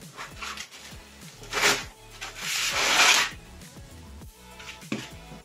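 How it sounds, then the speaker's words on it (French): Protective film being peeled and rubbed off a new AORUS 15P laptop, a series of close crinkling, scraping strips with louder bursts midway, no talking. "on va retirer les protections"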